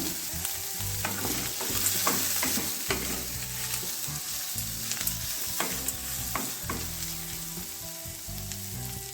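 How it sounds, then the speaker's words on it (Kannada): Garlic cloves frying in oil in a pan while radish chutney is made, heard as a dense, steady sizzle close by with frequent stirring clatter and crackle, and no voices. "ಚೆನ್ನಾಗಿ ಫ್ರೈ ಮಾಡ್ಕೊಳ್ಳೋಣ ಅದೇ ಒಂದು ಮೂರು ರೆಸಲು ಬೆಳ್ಳುಳ್ಳಿ ತೆಗೆದಿದ್ದು ಅದು ಹಾಕೊಂಡ್ಬಿಡೋಣ"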